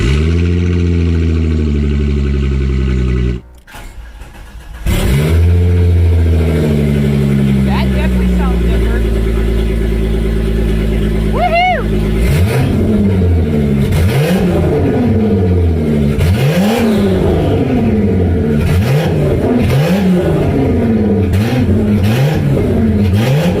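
Volkswagen Corrado engine running with the exhaust removed and an open downpipe, starting up after a brief dip, then idling raw and gargly with repeated sharp revs rising and falling, loud and close.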